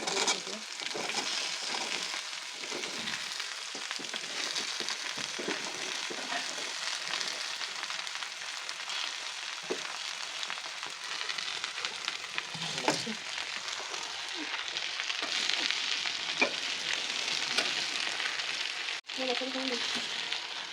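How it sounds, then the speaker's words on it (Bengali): Okra frying in mustard oil with chopped garlic, a steady, dense sizzle that holds at an even level throughout, with occasional stirring scrapes and a soft voice faintly in the background. "সরিষার তেল দিয়ে ভেন্ডি রান্না করা।"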